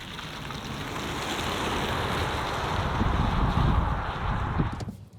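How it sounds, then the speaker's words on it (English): A Tesla Model Y L accelerating hard from 0 to 120 km/h, heard from inside as a broad, steady rush of road and wind noise that swells toward the end, then drops away abruptly. "Stand on the throttle, nice and sharp acceleration"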